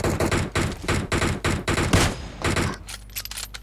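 Two computer-controlled bots trade rapid gunfire in PUBG Mobile on the Livik map, with loud, close bursts of repeated shots for about two and a half seconds before the firing stops and a quieter game ambience remains.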